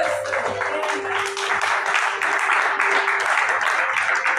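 A church congregation applauding together, a dense sustained wash of clapping heard from within the crowd, with voices mixed in at the start.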